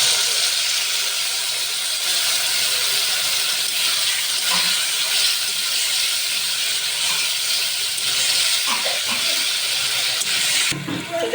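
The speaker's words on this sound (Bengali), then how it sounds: "এবার আমি এই করে রাখা সসটা দিয়ে দিচ্ছি।" Prepared sauce poured into a hot pan while cooking crispy chilli baby corn, giving a steady, loud broadband sizzle and hiss that runs throughout, with a few faint clinks and no talking.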